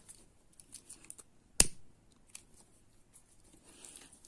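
A single crisp scissor snip cuts through craft paper while making a handmade paper bag, one sharp cut standing out near the middle against quiet, faint rustling handling sounds.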